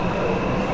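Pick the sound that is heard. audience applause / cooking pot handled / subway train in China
subway train in China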